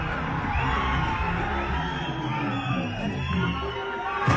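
A crowd inside a cinema theater cheers and shouts in a dense, continuous roar of overlapping voices, heard from close by and swelling slightly toward the end.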